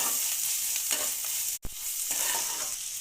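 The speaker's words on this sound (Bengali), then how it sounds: "আদা বাটা, রসুন বাটা দিয়ে ভালোভাবে নেড়ে চেড়ে নেব, নইলে মশলাটা পুড়ে যাবে" Ginger and garlic paste stirred and fried in hot oil in a pan while cooking chicken korma, giving a steady close sizzle with scraping stir strokes and one brief break in the sound.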